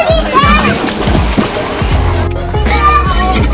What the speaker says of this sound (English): This is water.